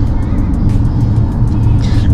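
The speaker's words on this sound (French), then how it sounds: "Donc on doit prendre un taxi." A taxi driving through New York, heard from inside as a steady, loud low engine and road rumble with no break across the short stretch.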